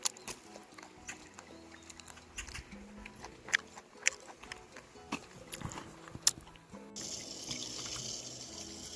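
Running tap water splashes steadily as freshly picked wild peaches are rinsed in a sink, with small wet knocks and rubbing of fruit, and a brighter, stronger stream toward the end.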